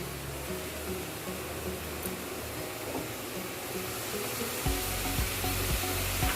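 Spices frying in a pan while cooking chicken, a steady broadband sizzle close up that holds at an even level, with low clattering stirring knocks near the end.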